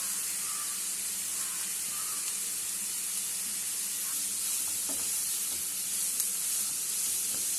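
Tomato and chili powder masala fries in a pan with a constant dense hiss and sizzle, soft and steady throughout with faint spatters and no voices.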